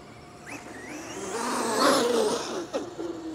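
XRT RC car with a big 1100kv electric motor running, a rising high whine and whir that swells as it speeds up, with tire scuffs and brief bumps toward the end.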